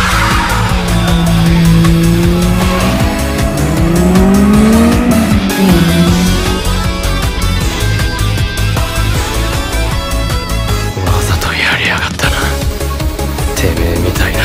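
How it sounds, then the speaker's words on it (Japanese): A race car in the Initial D racing video game screams as its engine revs up toward the red zone, loud and continuous, with squealing tires and skidding layered over the sustained high-pitched engine roar. "レッドゾーンまで一気に吹けるこの音"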